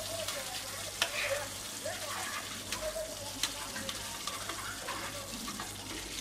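Hilsa fish fry in a pan with a soft, steady sizzle and occasional clinks and scrapes of a utensil as the pieces are turned, fairly quiet and close.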